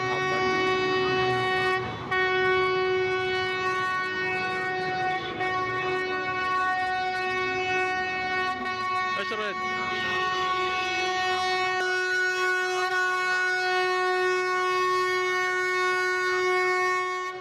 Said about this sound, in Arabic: واقفين والقطار جاهم من هاي الجهة ساحة عدن